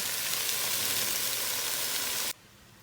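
Sofrito sizzles in a pot of chilli, a dense, even frying hiss heard up close that cuts off abruptly near the end.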